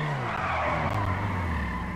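A car in Grand Theft Auto V skids hard with a sustained, loud tire squeal over a steady engine roar, continuous for the whole moment without any voices.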